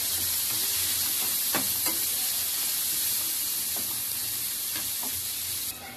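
Brinjal frying in oil with turmeric, salt, onion and chilli, a loud steady sizzle with a few soft scraping stirs, close by and without talk.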